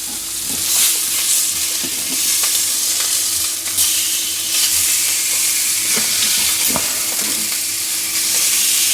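Steady, crackling sizzle of meat frying in a hot pan, continuous and close, with occasional scraping clicks of a utensil, while cooking Christmas dinner.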